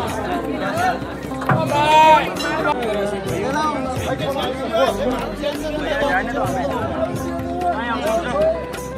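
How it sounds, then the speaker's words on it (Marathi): A huge crowd queuing at Somnath temple, dense overlapping chatter from many voices nearby, continuous and fairly loud with occasional louder calls rising out of the babble. "गर्दी पाहू शकता. प्रचंड गर्दी आहे."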